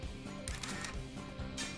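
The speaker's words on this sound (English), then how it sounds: "Just then, I heard the snap of a camera shutter." Camera shutter snap from the Higurashi visual novel: two crisp bursts of clicking, one near the middle and one at the end, over a steady bed of soft background music.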